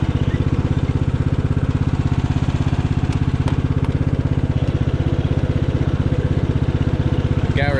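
An old, long-abandoned riding mower engine runs steadily at close range, a dense rhythmic putter holding even throughout while gears are shifted, with only faint light clicks and no talk.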